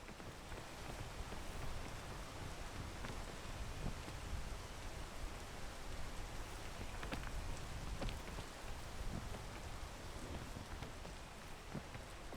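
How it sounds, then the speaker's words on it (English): Steady rain pours down in the video game PEAK, a dense hiss with scattered louder drops tapping nearby; no voices. "I should not be doing this while it's raining"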